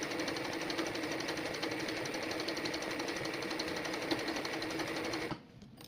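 A sewing machine stitches an embroidery design in a steady, continuous whirring run that stops abruptly near the end, with no talking.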